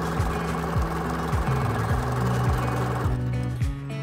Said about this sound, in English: Take the larger piece of fabric E and sew to the bottom edge.